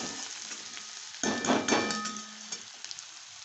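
Potatoes frying in a pan for aloo dum, with a quiet steady sizzle that surges into a louder burst of crackling and stirring midway, then settles back with a few light clinks.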